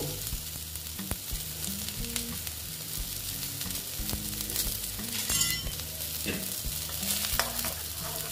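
Pieces of bitter gourd sizzle steadily in hot oil in a pan while a spatula scrapes and clinks, lifting them out. The frying is close and continuous, with no voices.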